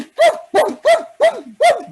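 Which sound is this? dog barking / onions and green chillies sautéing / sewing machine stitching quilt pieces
dog barking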